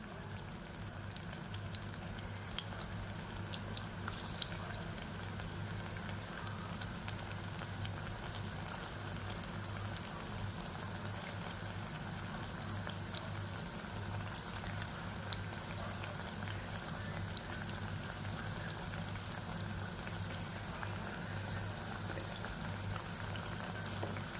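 Chicken pieces frying in hot oil give a continuous, even, crackling sizzle that holds steady throughout, with faint scattered pops and no talking.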